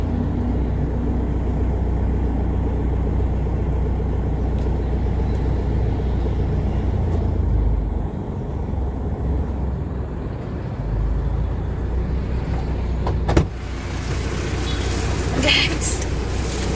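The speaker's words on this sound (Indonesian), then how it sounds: "Tuh, angkot di kota Tanah Merah Bovendigul itu seperti ini guys." Angkot minibus traffic in the town of Tanah Merah, Boven Digoel, with a continuous loud engine and road rumble that shifts and eases midway. A sharp knock is heard near the end.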